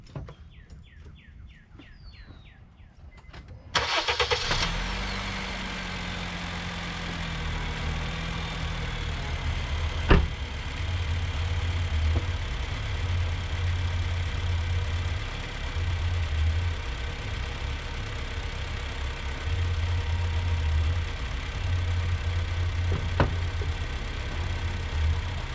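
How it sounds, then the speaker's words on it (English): A 1962 Chevrolet C10 pickup cranks briefly and fires, then settles into a steady low idle that runs on for about twenty seconds, with birds chirping faintly in the background. "Go ahead and turn the engine on."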